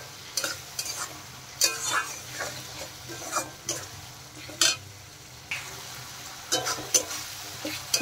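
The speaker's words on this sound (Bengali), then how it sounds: "টমেটো পেঁয়াজ বেশ ভালোভাবে কষানো হয়েছে" Chopped tomato and onion stir-fried with spices for urad dal, a steady soft sizzle under close scraping stirs of a spoon against the pan, coming in irregular bursts.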